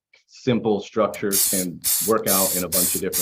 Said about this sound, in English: And that's the sound of spray paint, if you never heard it before.